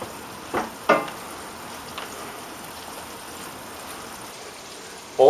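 Red capsicum fries with chicken in a pan, giving a soft steady sizzle with a few brief louder stirring clatters.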